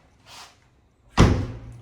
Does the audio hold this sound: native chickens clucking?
no